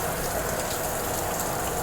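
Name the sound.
pouring rain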